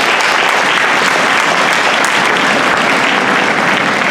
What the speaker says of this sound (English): give him a round of applause if you don't mind